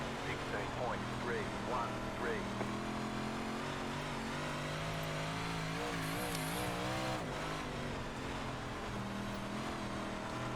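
A dirt race car engine at full throttle in iRacing's Super DIRTcar Series at The Dirt Track at Charlotte, a steady loud droning roar that rises and dips in pitch as the car revs, with a voice talking over it.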